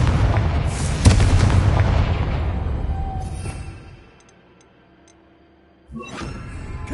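A Confringo explosive spell in Hogwarts Legacy detonates with a loud blast around one second, its rumbling roar fading over three seconds into near silence before another burst erupts near the end.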